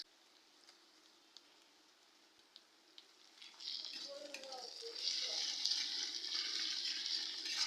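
Ginger garlic paste frying with onions in a pan while cooking chicken with potatoes, starting quiet and then rising into a bright, steady sizzle close by, with a few stirring scrapes.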